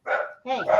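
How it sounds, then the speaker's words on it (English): A house dog barks right after a doorbell rings, two or three loud close yaps packed into under a second while a voice speaks over them. "I gotta shut the dog up."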